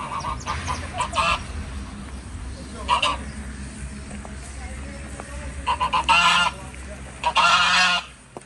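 Geese kept as guards at a prison in Brazil honk in loud, raucous bursts, a few scattered calls early and then two dense clusters near the end, over a steady background with a voice faintly present.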